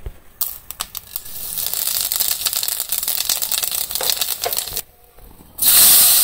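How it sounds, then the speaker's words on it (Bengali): Cumin seeds hit hot oil left from frying magur fish in a village-style kitchen, and a sharp hissing sizzle bursts up with scattered crackles. It runs close for several seconds, breaks off briefly, then surges again. "এখন মাছ ভাজার তেলে জিরা দিয়ে দিই।"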